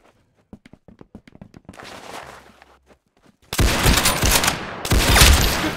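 Gunfire in the Roblox Arsenal video game: light scattered taps and footsteps give way to two loud, sustained bursts of rapid shooting near the end, with no talk.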